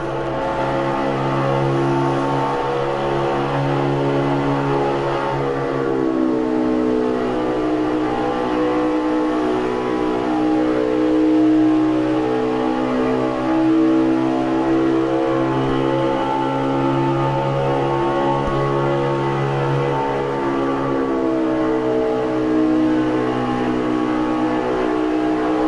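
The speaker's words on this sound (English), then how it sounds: "you guys will be able to hear a little bit of throttle and how to properly run this track here" A race car engine in a racing video game revs and throttles continuously through a lap, its pitch rising and falling with gear changes, loud and steady throughout with no talking.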